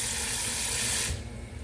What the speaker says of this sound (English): then you're going to add a little water to it, enough just to the top of the corn.